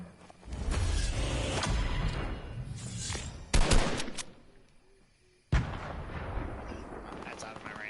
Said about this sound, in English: They're shooting back at us now.